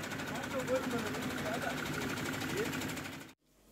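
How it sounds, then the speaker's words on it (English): A farm tractor runs at idle just after being jumpstarted, giving a steady low mechanical hum with a faint rhythmic knock, moderately close, before cutting off abruptly near the end. "Here's the tractor after it was started."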